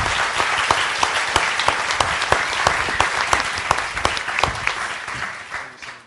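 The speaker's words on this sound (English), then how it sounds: "I'd ask that we give our panelists a round of applause" A conference audience gives the panelists a round of applause at a panel session on ethical cultural stewardship, a loud, sustained clapping that fades slightly toward the end.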